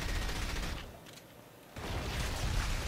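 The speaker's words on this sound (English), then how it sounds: "This tank is shooting at me." A tank firing in the From Russia with Love video game, loud rumbling blasts and gunfire that briefly drop away to a quieter lull before surging back in strongly.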